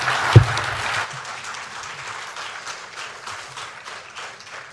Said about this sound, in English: can we give Mr. President another round of applause, please?